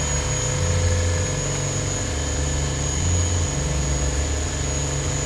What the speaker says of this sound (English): Here's my air compressor, still running strong.